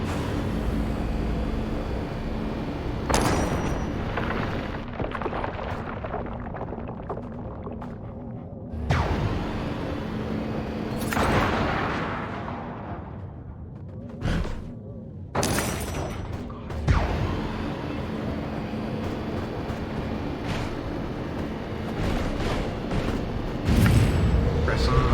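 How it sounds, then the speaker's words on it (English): Big, booming explosions from the video game Destroy All Humans, several heavy blasts and crashes rolling across the scene with chaotic game noise under someone talking. "They are much bigger explosion. Much cooler, sounds good."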